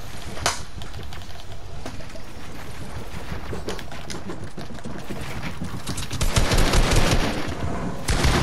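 Rapid gunfire in the video game Fortnite, bursts of fast repeated shots running through the clip and growing louder and denser near the end.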